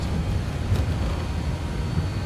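Avro RJ85 jet airliner rolling and rotating on takeoff in a flight simulator game, a steady low engine rumble and roar holding at an even level throughout, with no voices.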